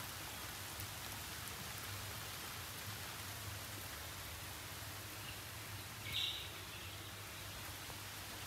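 Steady rain hisses evenly on a surface throughout, with a brief faint chirp partway through.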